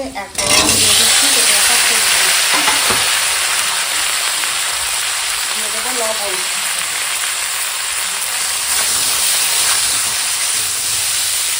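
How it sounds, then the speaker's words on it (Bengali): Vegetables fry hard in a tempering of bay leaves, dried red chili and green chili, giving a loud, continuous hiss and sizzle with occasional soft stirring sounds running beneath it. "সবজিটা অনেকটা সময় ফোড়নের সঙ্গে ভাজা হয়ে গেছে"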